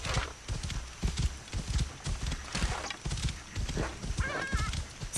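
A horse galloping in Assassin's Creed Origins, with rapid rhythmic hoofbeats thudding continuously and close, punctuated by brief whinnies and faint background game sounds.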